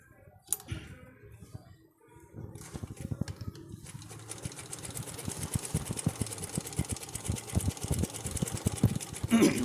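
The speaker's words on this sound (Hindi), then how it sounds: "अब इसके साथ ही हम दोबारा सिलाई लगाएंगे।" A sewing machine stitching fabric, starting with a few hesitant clicks, then settling into a fast, steady mechanical chatter that grows louder and runs continuously.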